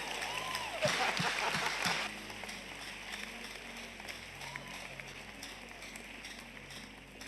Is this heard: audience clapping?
yes